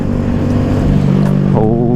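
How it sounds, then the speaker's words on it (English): A sporty car driving the Tail of the Dragon mountain road in the rain gives a loud, continuous exhaust roar with a sharp pop from the exhaust near the end, recorded close up in the cabin. "Exhaust backfired."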